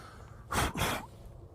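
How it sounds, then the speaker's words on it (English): Someone sniffs a vanilla soap fragrance with two quick, close, breathy inhalations in a row, followed by quiet. "That's enough of the sniffing."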